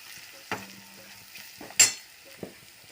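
Masala, turmeric and asafoetida sizzle briefly in hot oil in a pan for a vegetarian jackfruit-seed dish, with a few sharp spoon strokes against the pan and quiet gaps between the stirs.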